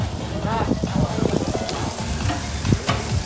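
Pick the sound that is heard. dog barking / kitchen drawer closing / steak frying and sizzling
steak frying and sizzling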